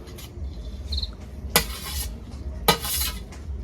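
A spoon stirs grated coconut through a little oil in a pan, giving soft scraping and rustling with two sharp metallic clinks of utensil against the pan.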